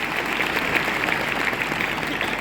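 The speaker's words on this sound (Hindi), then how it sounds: "मैं चाहूँगा बहुत जोरदार तालियां मिस्टर रिजवान खान के लिए" Loud, sustained clapping from a seminar audience for a business speaker, a thick even wash of applause across the whole stretch with no voice on top.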